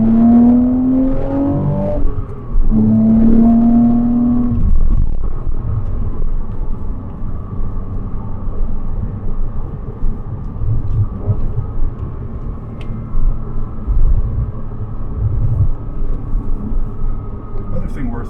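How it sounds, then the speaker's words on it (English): A Porsche 987 Cayman S engine with a stock flywheel accelerates from the driver's seat, giving a rising rev tone through the gears that settles into a low, rumbling exhaust drone. "this is a great exhaust."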